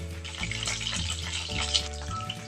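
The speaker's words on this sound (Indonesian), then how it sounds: "Minyak sudah panas, kita masukkan ayamnya, kita goreng sampai matang" Chicken wings fry in hot oil with a steady, dense hiss over a low, continuous hum, close and fairly loud throughout, with no talking.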